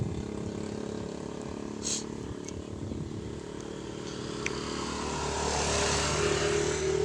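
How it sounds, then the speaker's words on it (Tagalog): Motorcycle engines drone and rumble as they pass nearby, growing louder toward the end, with no speech. "maingay kasi may dumadaan kasi mga motor"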